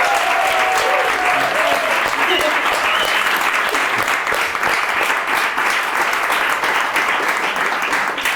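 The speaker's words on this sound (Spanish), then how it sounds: "Un aplauso." Studio audience breaking into sustained applause to welcome a guest on a radio-style show, thick steady clapping that holds at full level for the whole stretch, with faint voices beneath.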